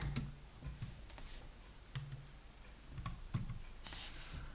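Typing on a computer keyboard while setting up a validation function in data-processing software: scattered, quiet key clicks in small clusters, close by, with low room hum beneath and no speech.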